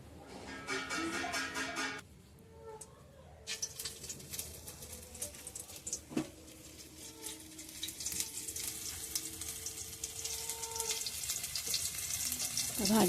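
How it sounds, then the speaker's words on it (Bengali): Bitter gourd fries in oil with a steady, moderate sizzle and crackle that builds toward the end, along with a few clinks from the pan. "ভেজে নেব এবার তেলেতে।"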